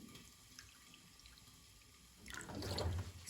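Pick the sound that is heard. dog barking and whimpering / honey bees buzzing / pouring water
pouring water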